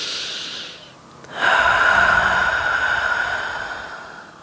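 One deep, audible breath during a yoga pose: a quiet inhale, then a long, airy exhale lasting a few seconds, close and alone.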